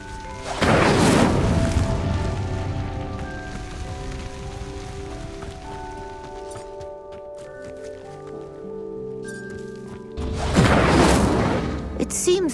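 A fire spell ignites a pyre in Hogwarts Legacy: a loud whooshing, roaring burst of flame at the start and again near the end, with softer crackle and sustained musical tones in between, and a voice calling out.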